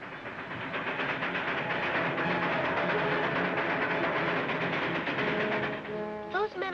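A train runs with a steady rushing rumble and rhythmic rattling, fairly loud, with a brief rising tone near the end.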